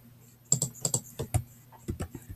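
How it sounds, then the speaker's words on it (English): Fingers type on a Chromebook keyboard, producing a quick run of close, crisp key clicks in two short bursts separated by a brief pause. "Type that in."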